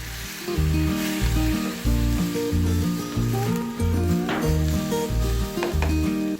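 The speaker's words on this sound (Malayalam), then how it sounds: "ഇതിലേക്ക് എടുത്ത് വെച്ചിരിക്കുന്ന ചെമ്മീൻ ചേർക്കാം" Prawns hit hot oil with frying onions for a coconut prawn curry, a bright steady sizzle running throughout beneath rhythmic background music.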